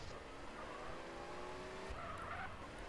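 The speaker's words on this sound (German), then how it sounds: "Ich versuche ja auch wenigstens zu driften, aber es klappt nicht ganz so." Tires squeal in a long, wavering screech as a car drifts in the online multiplayer racing game SA-MP, over steady engine noise, continuous for a few seconds, with no talking.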